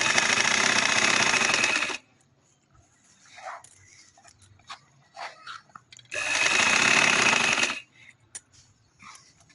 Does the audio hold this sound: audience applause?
no